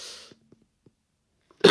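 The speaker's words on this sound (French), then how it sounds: "Excusez-moi, moi je tousse beaucoup." A breathy exhale fades into near silence with a few tiny clicks, then a single sharp, forceful cough bursts out close by.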